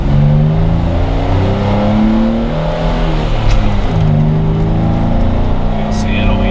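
A Jeep Wrangler JK fitted with 5.38 gears accelerates up a grade, its engine droning loud and steady with shifting tones under the cabin's road noise.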